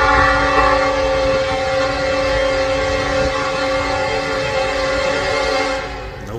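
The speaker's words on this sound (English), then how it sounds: "The infamous Lackawanna NS-1074 leading train 112." Norfolk Southern train 112 led by the Lackawanna heritage locomotive NS-1074, a loud, steady engine drone with tonal horn-like harmonics, close by and sustained before easing slightly at the end.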